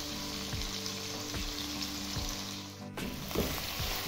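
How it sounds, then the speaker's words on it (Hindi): Chicken sizzling in a pan, a steady moderate frying hiss with a few soft stirring knocks and a brief dip near the end. "और चिकन को अच्छे से भून लेंगे।"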